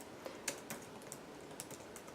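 Quiet, irregular clicking of computer keyboard keys, with light scattered taps over a faint background hiss and no one talking.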